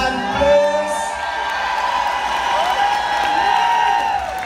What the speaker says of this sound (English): Can we have a nice round of applause for the band on the sand, please?